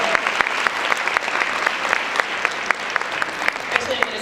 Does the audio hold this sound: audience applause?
yes